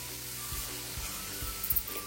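One and a half large onions sauté in a pan with turmeric and salt, giving a soft, steady sizzle broken by a few stirring scrapes and knocks.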